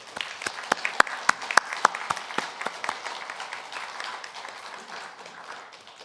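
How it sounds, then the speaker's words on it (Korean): Moderate applause from a church congregation during a Korean Sunday service, with a few sharp, distinct claps standing out early before settling into a softer, even patter. "이 시간 오직 하나님께 영광의 박수를 올려드리겠습니다"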